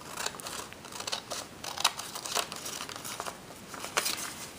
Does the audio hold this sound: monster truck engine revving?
no